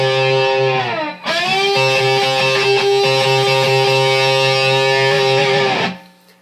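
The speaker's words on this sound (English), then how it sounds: "Alright, so I'm doing it with a glass slide." Electric guitar played with a glass slide, sliding up to a sustained ringing chord on the high strings in a song's intro part, with smooth pitch glides at the start and end and no talking.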